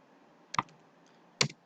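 Array values are typed on a computer keyboard: two separate, crisp keystrokes close up, spaced almost a second apart in near silence.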